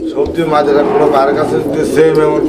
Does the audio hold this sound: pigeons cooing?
yes